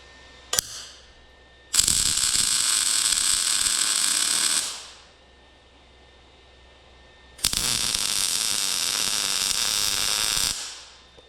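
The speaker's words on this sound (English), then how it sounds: "Let's just tack weld this together." Steel is tack welded onto an excavator hammer mount, with two long, loud, steady crackling bursts of arc welding several seconds each, separated by quiet, after a brief click at the start.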